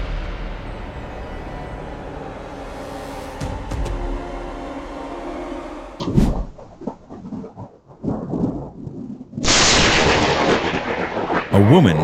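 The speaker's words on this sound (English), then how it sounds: "a bolt of lightning struck the tree right next to her home, creating a deafening explosion" A lightning bolt strikes a tree beside a house, a deafening explosive crack that booms and rumbles out, followed by sharp bursts and a roaring, hissing wash of noise.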